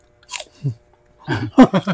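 Crisp crunching bites and chewing of an apple, close up, in a few short bursts separated by brief pauses.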